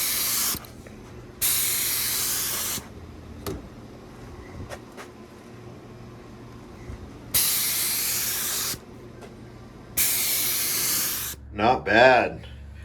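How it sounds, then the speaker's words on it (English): Gloss finish is sprayed from an aerial can onto a skateboard made from roller skates, in several loud, close hissing bursts of one to two seconds each, separated by quiet gaps with faint background noise. "Gloss the board."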